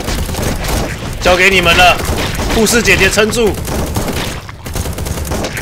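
Rapid bursts of video game gunfire in Run!ZombieFoods, dense rattling shots rising and falling beneath an excited player's voice.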